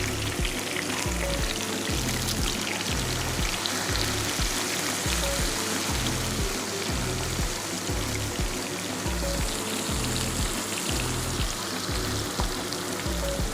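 Ginger and garlic fry in hot oil in a pan, a continuous crackling sizzle with rhythmic scraping as they are stirred, fairly close and uninterrupted by voices.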